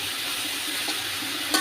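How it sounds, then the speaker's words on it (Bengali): Bottle gourd leaves stir-fried in a pan give a soft, steady sizzle with a couple of faint spatula clicks near the end, heard alone without talk. "ভালো মতো নেড়ে চেড়ে ভেজে নেব"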